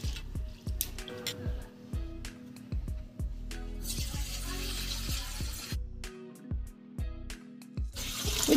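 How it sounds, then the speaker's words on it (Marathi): Raw rice is rubbed and rinsed by hand in water, giving repeated wet squishing and sloshing strokes in a steady rhythm, with bursts of running water partway through and no talking. "आपल्याला अशा पद्धतीने चोळून हे तांदूळ स्वच्छ धुवून घ्यायचे आहेत"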